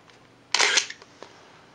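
The shutter of a Nikon F100 film SLR fires once, close and fairly loud: a short mechanical clack followed by fainter clicks, with no talking.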